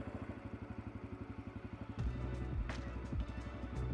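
Dirt bike engine idling in a steady, rapid low thump, then bogging and surging as the rider eases the clutch out on takeoff, with a few short revs and clatter close by.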